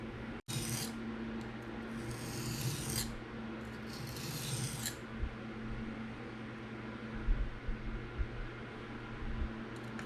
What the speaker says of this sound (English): it is going to take some forward passes as well, obviously, and then we're going to start sharpening